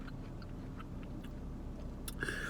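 Someone chews Wendy's french fries up close, soft mushy mastication with a few crisper bites and a small lip smack near the end.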